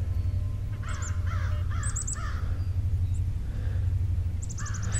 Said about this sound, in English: And of course the crows.